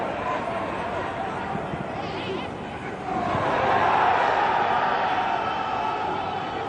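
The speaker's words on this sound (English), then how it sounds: "Ghanaian supporters in the crowd making plenty of noise every time they get into the final third" A stadium crowd of Ghanaian supporters at an international friendly between Ghana and Switzerland sends up a broad, swelling roar that grows louder midway, heard under a commentator's steady talk.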